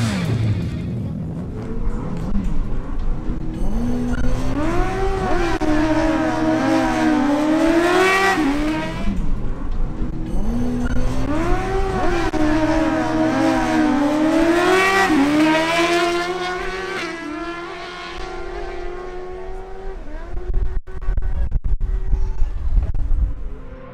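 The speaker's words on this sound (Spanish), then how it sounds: "se enfrentan César Camacho en su Suzuki GSX-R1000 versus la Honda" A Suzuki GSX-R1000 and a Honda CBR1000RR launch side by side in a drag race, engines screaming up through rising gear sweeps twice in succession, loud and close, then cutting away to a rumbling idle.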